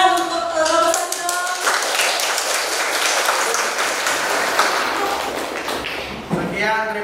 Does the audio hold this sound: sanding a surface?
no